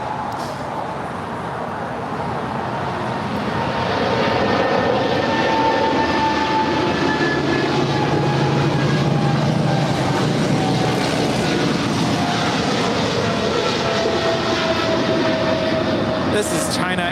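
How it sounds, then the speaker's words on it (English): A China Airlines Cargo Boeing 777 freighter departing Los Angeles International Airport, a heavy jet roar building over the first few seconds and then holding as a loud, steady broadband rumble from nearby. "This is China Airlines Cargo 5107 departing to San Francisco. It's a 777 freighter."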